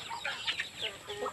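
Chickens cluck and chatter in short bursts, fairly close, with no talking over them.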